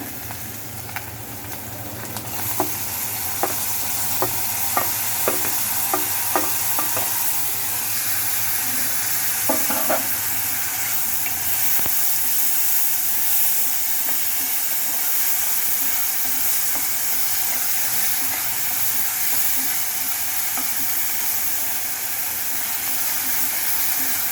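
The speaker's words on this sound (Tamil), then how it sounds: "இஞ்சி பூண்டு வதங்கிட்டு இப்போ வந்து தக்காளி போட்டுக்கலாம்" Ginger and garlic sauté in a little oil while tomato goes in for a fish thokku, a steady close sizzle running throughout with a few sharp stirring clicks and scrapes early on.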